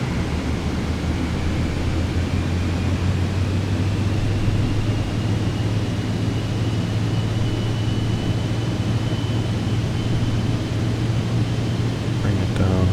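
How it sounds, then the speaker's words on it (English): Cockpit ground proximity warnings sound over a steady engine drone in a flight simulator game as the plane nears a mountain peak near Tromso, Norway, with continuous loud aircraft noise throughout and a talking voice partly mixed in. "you're hearing those warnings there because we getting close to the peak there"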